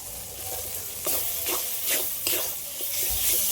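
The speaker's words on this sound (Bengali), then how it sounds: "মশলার সাথে টমেটোটা একটু হালকা করে নেড়ে নিলাম" Chopped tomato being stirred into a spice paste frying in a pan, with a steady sizzle and several short scraping stir strokes close by.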